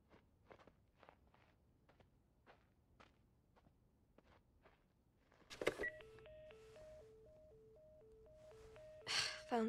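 Dialing on a phone in the video game The Last of Us: after a run of soft footsteps, a burst of clear, evenly paced keypad tones plays close and distinct, with no talking.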